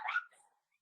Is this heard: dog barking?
yes